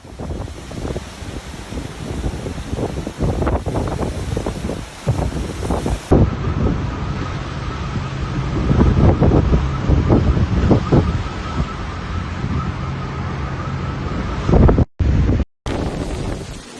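Super Typhoon Sinlaku's wind roars and buffets the microphone while heavy surf crashes nearby, loud and continuous with gusty surges and a few abrupt cuts near the end.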